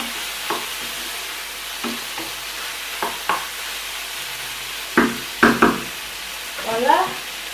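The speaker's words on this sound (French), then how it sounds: "So I'm going to fry like this for 5 minutes before I can add my vegetable." Chicken frying in a pan for fried rice gives a steady sizzle, with a few louder scrapes and clatters of stirring that come in bursts toward the end.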